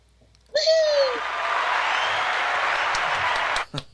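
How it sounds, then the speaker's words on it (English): A short round of applause from a small crowd, steady clapping for about three seconds with a brief whoop at the start, then it fades out. "Can we get a round of applause for Mr. Breaks?"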